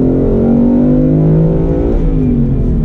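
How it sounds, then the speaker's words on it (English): A 2019 Ford Mustang GT Performance Pack Level 2 with its quad-cam Coyote V8 rolls on hard from second gear, a loud, steady engine roar climbing in pitch as it revs toward redline, with no talk over it. "We're now in the Mustang GT Performance Pack Level 2. We are gonna roll on from second gear."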